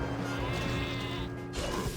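Sheep bleat over a steady game soundscape as sheep fall from the sky in a Minecraft prison-escape map, sustained and loud, with a short break near the end.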